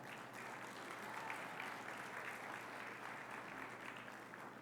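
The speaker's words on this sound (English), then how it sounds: "A please big round of applause for that." A banquet-room audience at a LULAC national convention luncheon claps in a dense, even wash of applause, faint and distant, sustained throughout with no voices.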